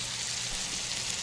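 Close, continuous sizzling of green tomatoes frying in a hot cast iron pan, a steady crackling hiss.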